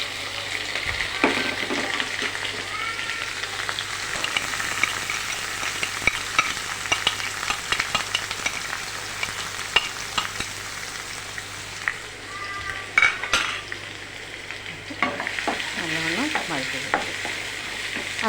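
Onion, bird's eye chili, garlic and curry leaves sizzle steadily in a hot pan, a continuous frying crackle with occasional stirring scrapes and clinks, close and alone without any talk.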